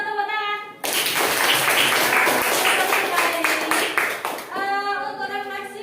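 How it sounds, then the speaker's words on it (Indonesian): Schoolchildren in a classroom burst into rhythmic clapping and cheering for several seconds, with a teacher's voice speaking before and after. "tepuk tangan"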